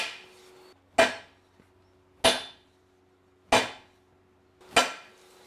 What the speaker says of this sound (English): we're just going to let it hammer itself on.